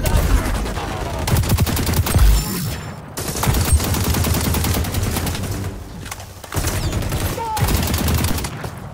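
Dense, rapid gunfire from a first-person shooter video game, overlapping bursts of automatic shots and heavy impacts that keep going almost nonstop, loud and cluttered, with brief lulls.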